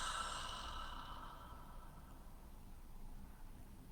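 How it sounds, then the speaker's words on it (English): Deep belly breath exhaled gently through the mouth, a soft, faint airy whoosh that fades out slowly over a few seconds, close and alone. "inviting a deeper belly breath in, filling up the belly, and then gently exhaling out the mouth"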